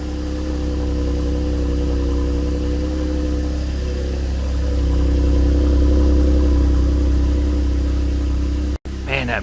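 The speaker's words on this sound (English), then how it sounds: "This engine is quiet. Listen to it down here." A 2015 Cadillac CTS engine idles steadily after a cold start, a smooth low hum heard close up and fairly loud, rising slightly midway, with a brief cut near the end.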